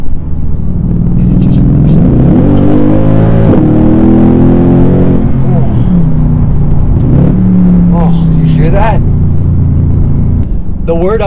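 A Mercedes C63 Black Series engine rumbles loudly and climbs through repeated revving surges. A voice talks over it, and faint higher chirps come near the end.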